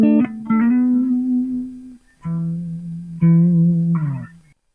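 A clean electric guitar plays a few long sustained notes with a gentle vibrato pitch wobble, separated by short silences.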